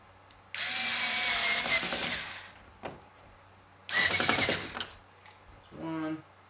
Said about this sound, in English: if you have an electric screwdriver